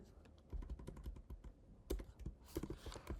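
Computer keyboard typing: quick irregular key clicks in short close bursts, fairly quiet, with no speech over them.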